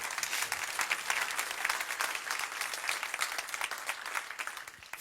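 A crowd at a seminar breaks into applause. The sustained clapping is dense and fairly soft, as if heard from a distance, and it runs steadily with no talking over it.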